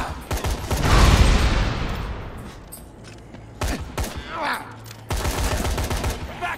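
Gunfire in Dead Rising 3, with sharp bursts of rapid shots at the start, mid-clip and a sustained volley near the end, loud and close, with brief game noise between the bursts.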